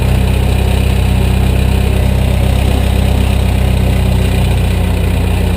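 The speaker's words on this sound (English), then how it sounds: "the machine is doing a wheelie, going uphill with all that weight in the back" A loader climbing uphill with a heavy load in its back end, front lifted in a wheelie on a beach building site, produces a loud, steady engine drone with a constant low hum and no pauses or talk.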